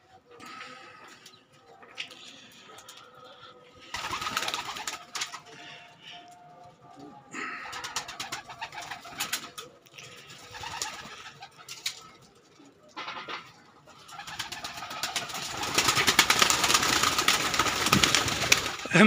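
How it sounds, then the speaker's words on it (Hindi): Pigeons coo and flutter nearby in a loft, with scattered rustling, wing flaps and faint voices in the background. "मेरे सर पे बैठ गए कबूतर आके।"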